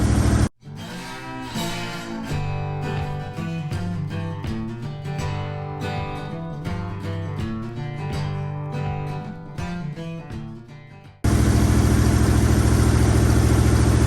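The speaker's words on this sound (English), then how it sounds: "Idling a little high." A 1965 Beaumont's engine cranks and sputters for several seconds, then catches and settles into a steady, loud idle running a little high.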